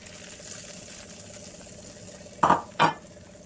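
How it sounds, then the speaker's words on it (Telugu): Tempering is added to a pot of chicken buttermilk curry, heard as two quick metallic clanks and splashes in close succession over a quiet kitchen background. "పోపు వేసుకుందాం"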